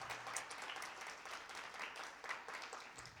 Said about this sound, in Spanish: Denle un fuerte aplauso al Señor por eso